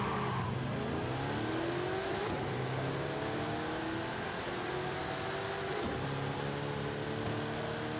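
A drag car engine in Forza Horizon 5 revs and races through its gears, the loud, steady motor note climbing in pitch, dropping at each shift and climbing again, with no talking.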